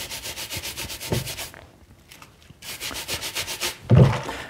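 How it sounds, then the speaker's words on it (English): A brass brush scrubs a gold or silver chain bracelet with small jump rings and bolt rings, giving steady rhythmic rasping strokes that pause briefly and then resume, close up with no talking. "So literally within seconds of rubbing it with a brass brush"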